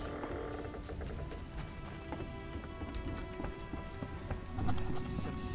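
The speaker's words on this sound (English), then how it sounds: "Some serious rain." Heavy rain pours steadily in The Witcher video game, a dense constant hiss of drops with faint background tones and a low rumble swelling near the end.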